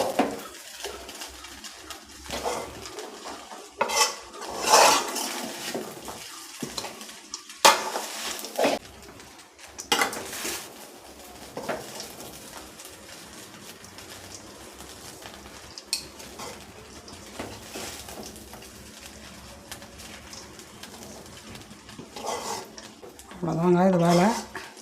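Coconut rice is stirred continuously in a metal pan, with a spoon scraping and clinking in irregular strokes and a faint sizzle underneath, while a person talks over most of it.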